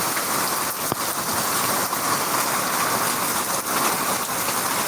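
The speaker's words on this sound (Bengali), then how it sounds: "প্রচণ্ডভাবে শিলাবৃষ্টি" Dense, heavy rain with hail pours steadily with a constant rushing roar, a few sharper hailstone impacts standing out against the downpour.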